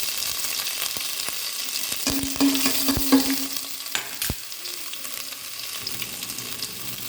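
Ginger frying with jackfruit seeds in plenty of coconut oil gives a steady close sizzle, with a few sharp clacks and scrapes of a spoon stirring in the pan and a brief tonal hum midway.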